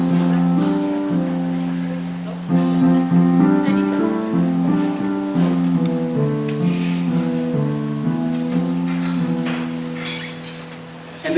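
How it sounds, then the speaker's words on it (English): Medieval-style singing in parallel-motion harmony: voices move up and down together in sustained, close chord steps, loud and clear throughout. "And they start doing their harmony in parallel motion."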